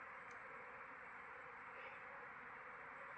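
A honeybee swarm flies in a faint, continuous buzzing hum heard at a distance, steady for a few seconds with no voices.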